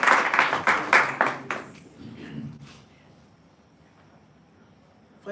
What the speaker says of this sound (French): je veux qu'on applaudisse notre fidélité ordinaire